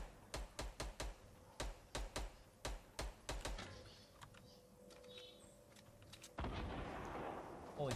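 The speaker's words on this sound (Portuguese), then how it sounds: "Onde os caras estão atirando?" Gunfire in a video game, a series of sharp, closely spaced shots in the first half, then quieter scattered game noise and a louder sustained burst near the end.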